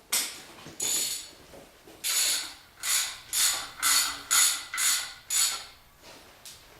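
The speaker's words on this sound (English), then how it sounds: "I'll put a ratchet on it, make it easier on me." A ratchet wrench turns bolts on a V8-swapped Miata, clicking in a run of about ten rhythmic back-and-forth strokes, close and fairly loud with short pauses between.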